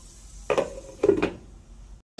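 Metal lid set down over a frying pan of steak cooking with paprika and spices, two distinct clanking contacts close by with a light rattle, over a faint background sizzle.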